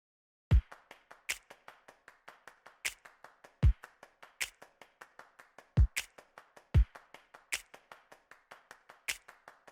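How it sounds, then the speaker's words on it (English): Programmed pop drum clap loop with kicks and snaps: crisp, evenly spaced sampled snaps repeating in a fast steady grid, with heavier clap-and-kick hits landing on a regular beat, dry and upfront with no voices. "one of the things that I snuck into this pre-chorus here was this clap loop"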